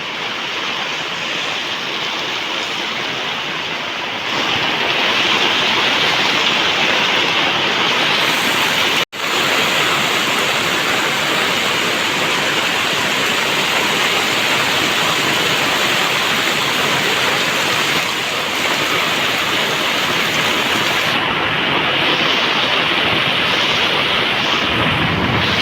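Floodwater roars at Damodar Kund in Junagadh after heavy rain, a loud, unbroken torrent like a waterfall that swells after a few seconds and holds steady, with no voices heard.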